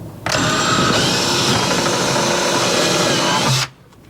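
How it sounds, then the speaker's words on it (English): A power drill bores a screw hole into an RV wall, a single loud, close whine held steady for about three seconds before cutting off abruptly. "So now I'll drill the second hole."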